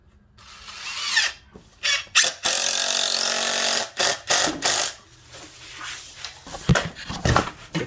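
A power drill drives 2.5 to 3-inch screws into a wooden tabletop Christmas tree stand, giving several loud whirring bursts separated by short pauses, close by with no talk.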